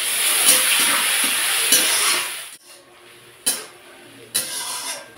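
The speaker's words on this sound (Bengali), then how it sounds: "পেঁয়াজটা ভালো করে ভেজে নিয়েছি" Chopped onions fry with cumin seeds and a pinch of salt, a loud close sizzle for a couple of seconds that cuts off, followed by quieter frying broken by sharp spoon-against-pan clinks.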